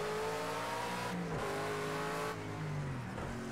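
Racing car engine in the Project Cars 2 video game, revving and shifting with rising and falling engine tones, loud and steady throughout.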